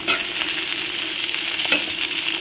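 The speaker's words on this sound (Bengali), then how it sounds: "আমি নেড়ে একটু ভালোভাবে ভেজে নেব।" Onion, garlic and green chillies frying in a pan for a spicy mash while being stirred, giving a steady close sizzle with light scraping of the spoon and no voices.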